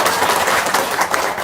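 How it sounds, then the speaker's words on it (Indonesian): An audience applauds, many hands clapping in a dense, steady patter. It sounds close and fairly loud and lasts about a second and a half, with little talk over it. "Tepuk tangan."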